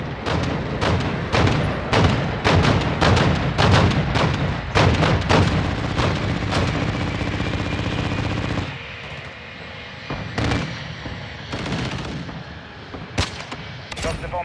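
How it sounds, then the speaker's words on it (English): Rapid bursts of gunfire and booming explosions from a Call of Duty: Modern Warfare II match, a dense loud barrage for several seconds that thins into scattered single shots and distant blasts. "All I heard was an explosion."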